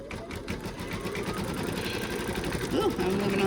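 A machine embroidery unit stitches an in-the-hoop monkey bib with a steady, busy mechanical chatter that runs throughout, while a person talks over it.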